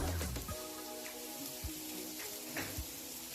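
Cauliflower frying in oil for gobi manchurian, a soft continuous sizzle with a few faint pops and taps, fairly quiet and without voices.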